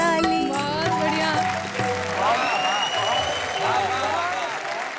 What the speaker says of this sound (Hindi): बजाओ मिलकर ताली